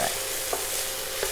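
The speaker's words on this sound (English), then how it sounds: "So I'm gonna saute the mushrooms and add in some salt and black pepper" Mushrooms sautéing in a pan, a close, steady hiss of sizzling with a few quick scraping stirs.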